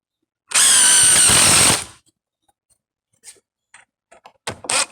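A power drill set to mid-level power drives a screw during porch repairs, a loud whirring burst of just over a second close up, followed by a few faint clicks and taps.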